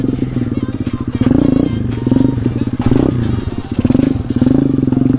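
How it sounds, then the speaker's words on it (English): A pit bike engine runs loud and close throughout while being ridden, with a buzzing, strongly vibrating drone that rises and falls as the throttle opens and the bike shifts into second gear, plus occasional clattering thuds. "this pit bike vibrates so"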